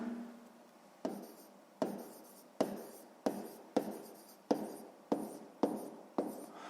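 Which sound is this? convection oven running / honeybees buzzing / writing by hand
writing by hand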